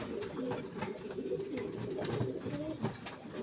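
Ornamental pigeons coo in a loft with soft, rolling calls that repeat and overlap throughout, close by over a low background murmur.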